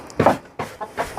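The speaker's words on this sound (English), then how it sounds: "We've got one chicken still sat." Hens cluck in their pen while it is being cleaned out, giving three short, close, fairly loud clucks in quick succession.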